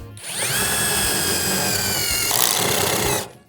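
Dnipro-M DTD-201BC Ultra cordless impact driver sinking a 5 cm screw into soft wood, a loud continuous whirring motor close by with a pitch that shifts midway, then stopping abruptly.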